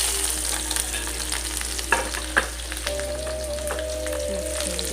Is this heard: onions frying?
yes